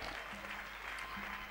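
A church congregation applauding together, a dense and steady wash of clapping with no gaps, heard at some distance and fairly faint, with a faint hum underneath.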